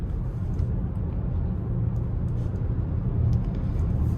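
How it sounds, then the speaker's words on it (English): A Volkswagen ID4 Pro electric car driving, heard from inside as a steady low road rumble and tire hum with no voices. "Now, this car does handle really well."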